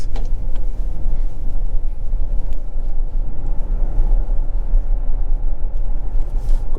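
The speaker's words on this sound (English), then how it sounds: "let's go and take the BZ4X for a quick drive and see how she does" A 2023 Toyota bZ4X XLE AWD electric SUV drives along, heard from inside as a steady low road rumble and tire roar, constant and close, with no one speaking.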